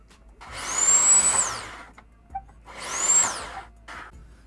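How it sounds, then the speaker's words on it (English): A power drill with a small bit bores into the plastic case of a Netgear DGND3700 router, giving two loud, close whining bursts of about a second each separated by a brief pause. "So I'll use a smaller driller bit,"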